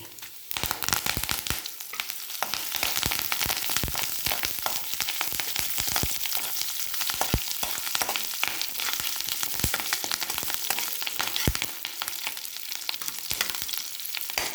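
Oil sizzling and crackling hard and steadily as mustard seeds and cumin fry for tempering, with sharp pops bursting through again and again; no one speaks.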